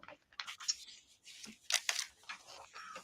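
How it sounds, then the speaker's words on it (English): Scissors snip through paper folded along creases and a sheet protector, making a series of close, crisp cuts and crinkles in uneven bursts with quiet pauses between. "it's easy to just take your scissors"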